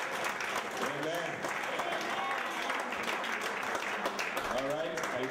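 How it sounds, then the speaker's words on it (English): A church congregation at a revival meeting claps steadily and densely throughout while voices talk and call out over the clapping. "Say clap for Jesus. Clap for Jesus."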